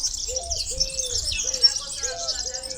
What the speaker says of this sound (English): we've got a bird sanctuary here that's pretty cool